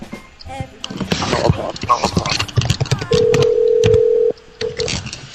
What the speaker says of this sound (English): One more time for Richard, with a bunch of noise in the background. Is he going to answer